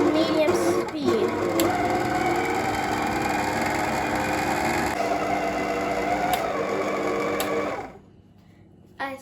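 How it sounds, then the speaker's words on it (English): A stand mixer runs at medium speed, giving a steady close motor whir that holds for about eight seconds before cutting off, followed by a brief clunk. "Then we're going to close our stand mixer and put it on"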